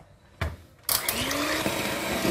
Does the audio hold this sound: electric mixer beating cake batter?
yes